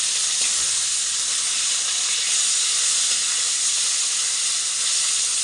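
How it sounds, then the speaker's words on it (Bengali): Catla fish frying in hot oil in a pan, a steady loud hiss with no break throughout, no voices over it. "আর এখানে একটু কাতলা মাছটা দেখো ভেজে নিচ্ছি।"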